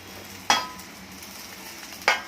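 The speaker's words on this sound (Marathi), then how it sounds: "आपल्या आता कापलेला बटाटा आणि वांगे टाकून घेऊया" Cut potato and eggplant hitting hot oil in a pan, two sharp sizzling bursts about a second and a half apart over a low steady frying hiss.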